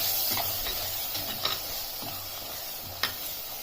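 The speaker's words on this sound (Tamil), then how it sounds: "நல்லா மிக்ஸ் பண்ணி விட்டுக்கோங்க." Fish curry masala with turmeric and ground paste being stirred in a mud pot: a soft, steady sizzle with a few scraping strokes and occasional sharper clicks of the spoon against the pot.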